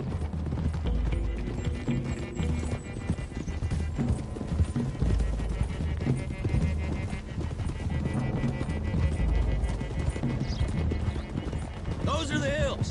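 Horses gallop in a Western video game, with continuous rapid hoofbeats close and loud throughout the stretch. A voice speaks over them and a horse whinnies briefly near the end.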